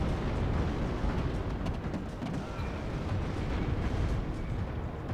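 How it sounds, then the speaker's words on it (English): Long-range artillery explosions rumble continuously in the Warno battle game, a dense, loud, low roar of overlapping blasts and bursts with no clear gaps. "now you see the enemy responding to us with their long-range artillery"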